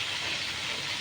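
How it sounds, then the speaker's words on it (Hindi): A steady, dense sizzling hiss fills the whole moment as stuffed bitter gourds fry in hot oil in a pan close up, with no pauses. "अभी सिम पे में तल रहे हैं"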